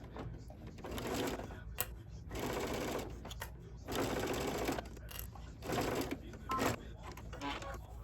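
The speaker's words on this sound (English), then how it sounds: "I put my regular foot back on so I could sew this." Sewing machine stitching a duffel bag seam with a regular presser foot, running in several steady bursts separated by short pauses, close and fairly loud.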